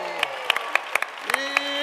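Schoolchildren clap in a classroom during a reading event, producing sparse, separate claps at a steady rhythm rather than a dense ovation. A few claps sound at a time, with faint voices in the background.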